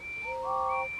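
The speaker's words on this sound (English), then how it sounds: ""Hooray for Gordon!" whistled Thomas, and all the engines tooted." Steam locomotive whistles in the Trainz railway simulator, several sustained tonal blasts overlapping, with a higher tone giving way to two lower harmonised notes, moderately loud and clear with no talking.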